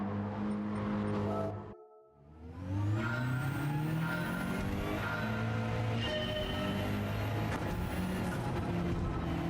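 A BMW rally car engine in the racing game WRC, revving loudly with rising and falling pitch through gear changes, briefly dropping out near the start before climbing again and holding a steady drone.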